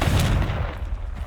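A Confringo fire-blast spell goes off in Hogwarts Legacy, giving one near, loud, booming burst that fades quickly, with no voices over it.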